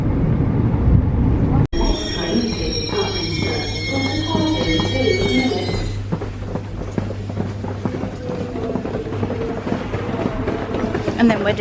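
Onboard a passenger train travelling up to London, with steady rumbling carriage noise and rhythmic rattling throughout, a brief high whine early on, and people talking nearby.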